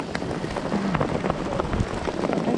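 Irregular pattering and ticking of hailstones striking surfaces on a mountain, a dense, steady shower heard close by.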